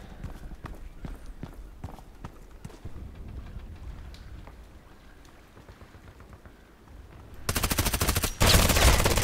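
Gunfire in the online shooter Contract Wars: scattered single shots and short bursts early, then a loud sustained automatic burst near the end, close and sharp.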